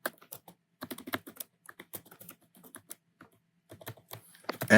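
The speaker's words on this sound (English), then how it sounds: "open up the terminal and type in the command npx create" Quick keystrokes on a computer keyboard as a terminal command is entered to create a Next.js project, clicking in short irregular bursts with brief pauses, then a louder rustling noise at the very end.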